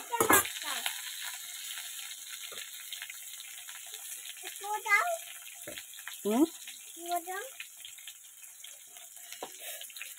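Potatoes frying in a pan with chopped onion and chilli tossed in, a steady close sizzle with bursts of stirring while a person talks over it.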